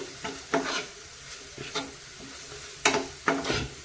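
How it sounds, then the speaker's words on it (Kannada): Turmeric powder fries in oil in a pan, with a faint sizzle under several uneven scraping strokes of a stirring utensil, close and fairly quiet. "ಅರ್ಶಿನ ಹುಡಿ ಕೂಡ ನಾನು ಹಾಕ್ತಾ ಇದ್ದೀನಿ ಅದನ್ನು ಕೂಡ ಎಣ್ಣೆಯಲ್ಲಿ ಫ್ರೈ ಮಾಡ್ತಾ ಇದ್ದೀನಿ"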